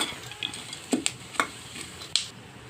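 Dry fruits roasting in ghee in a pan, with a handful of sharp scraping stirs and light clinks over a soft, steady sizzle.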